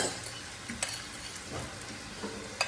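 Wild garlic flowers and greens are stir-fried in a pan, giving a soft, continuous sizzle broken by several sharp scrapes and clacks of a utensil against the pan.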